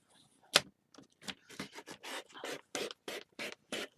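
A craft blade cuts through paper for a handmade pocket, a series of short scratchy slicing strokes in an irregular rhythm, close and fairly soft, with no talking.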